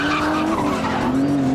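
Aston Martin DBS on a track, its rear sliding as the tires skid with a continuous high squeal over the engine's steady drone, close and loud, with no talking.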